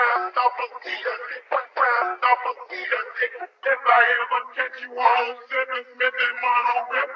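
A processed Memphis-style vocal sample, saturated and EQ'd with the high end trimmed, plays alone as a band-limited, lo-fi chopped voice in continuous phrases.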